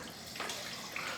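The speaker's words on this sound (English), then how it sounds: "but the water's running in the drum right now" Water from a reverse-osmosis filter system runs steadily into a 55-gallon drum in a large reef tank setup, a faint continuous splashing wash with no talk over it.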